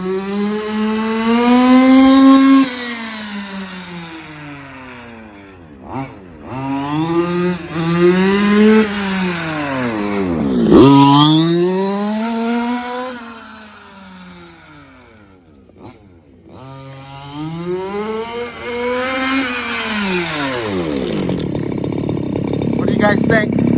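Losi 5ive T 2.0 large-scale RC truck with a freshly fixed rear differential, its small gas engine revving up and down in repeated loud, buzzy sweeps, close by and mostly alone with only brief gaps between runs.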